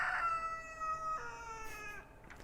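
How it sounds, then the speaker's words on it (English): A rooster crows once in a long, drawn-out call with a falling, wavering finish, fairly close and clear over a faint background hiss. "And there's my rooster."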